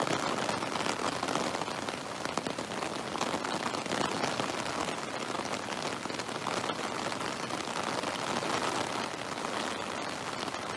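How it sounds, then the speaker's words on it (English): Heavy rain from Hurricane Florence pours down steadily in Fayetteville, North Carolina, a dense, constant hiss of drops striking surfaces nearby, with no pauses. "Lots of rain coming down"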